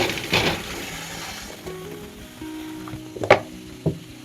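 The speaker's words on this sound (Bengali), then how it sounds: "এবার কচুর শাকগুলো কড়াইয়ের মধ্যে দিয়ে দিচ্ছি।" Boiled taro greens go into a wok with a soft rustling slide, followed by a few sharp metallic knocks and clatters near the end, fairly close and without talk.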